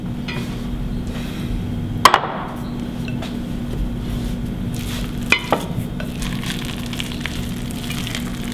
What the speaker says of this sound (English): Now comes the fun thing, mixing it all together.